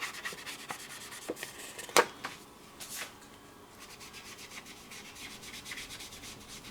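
Paper edges being distressed for handmade card making, a soft dry scraping and rubbing that comes in quiet bursts with one sharper scrape near the start, no voices.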